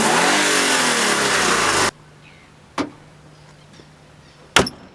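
An Alfa Romeo 146's 1.6-litre eight-valve boxer engine revs loudly and steadily for about two seconds, then stops, followed by a couple of sharp clicks or knocks in near silence.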